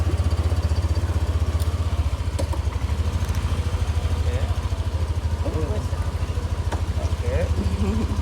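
Motorbike engine idling steadily close by in Bali, a low continuous rumble throughout with people talking over it.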